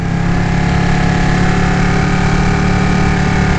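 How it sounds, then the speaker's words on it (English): A 2018 Ducati Panigale 959 sports motorcycle engine runs at a steady, loud idle close by, a constant buzzing drone with no talking. "Bike sounds amazing"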